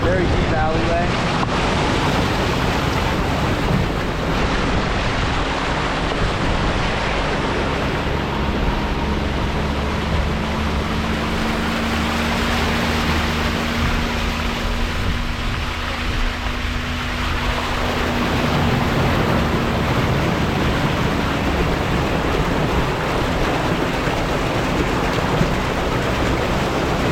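Vehicle pushes through deep floodwater after Hurricane Ian, a loud steady rush and wash of water around it with engine drone beneath, continuous throughout.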